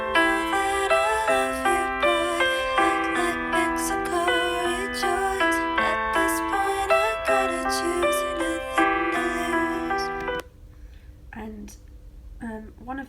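Layered high vocal harmonies from a pre-chorus play back as stacked sustained notes in a steady rhythm, full and prominent, then cut off abruptly near the end, leaving sparse quieter sounds.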